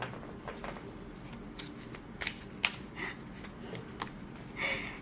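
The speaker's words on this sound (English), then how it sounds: "I'm obviously struggling with shuffling this deck" Tarot cards are shuffled and riffled close by in soft, uneven bursts of flicking and rustling, fairly quiet with no talking.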